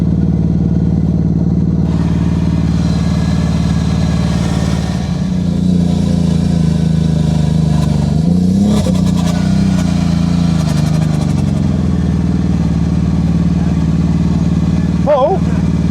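A buggy with a broken drive shaft runs with a steady mid-pitched engine drone, clattering and surging briefly, while people talk over it.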